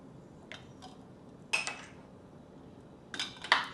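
A spoon stirs warm tea with ice and mango puree in a glass, making scattered light clinks and taps, with a few brighter strikes near the end against a quiet background.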